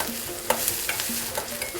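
Small pieces of ginger sauté in oil for a ginger curry, a close, constant sizzle with a few light utensil taps over a brief stretch, no talking.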